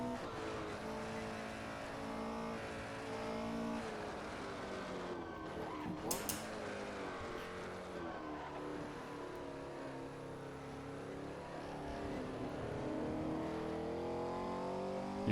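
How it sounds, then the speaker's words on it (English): A racing car engine in a video game revs hard, its pitch climbing and dropping through gear changes, with a raspy carburetor intake roar throughout. "You can hear the suction of the carburetors right behind your head when you go flat out."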